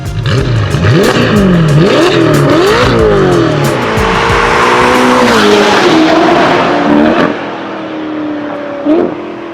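A Ferrari with a Novitec aftermarket exhaust revs hard and loud several times, the roaring exhaust pitch climbing and dropping in sweeps, then settling into a lower rumble.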